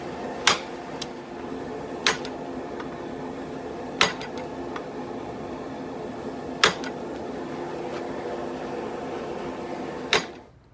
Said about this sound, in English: I'm going to go in here with a set hammer and basically just try to push it over.